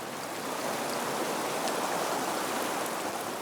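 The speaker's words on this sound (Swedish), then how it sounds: "Har man rinnande vatten så är ju det här ljudet som vi hör i bakgrunden" Running water of a stream flows in a steady, dense rush of broadband noise, close and continuous with no voices.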